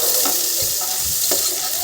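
Sliced onions frying in hot oil in a wok, a steady broadband sizzle with a few stirring scrapes, close and fairly loud throughout.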